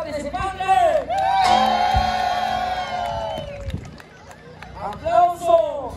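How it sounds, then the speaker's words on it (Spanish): A crowd at a jaripeo-baile in a rural Mexican bullring cheers and whoops for a child contestant, a loud burst of a few seconds swelling between an announcer's amplified talk over a PA. "Aplauso para el primer participante."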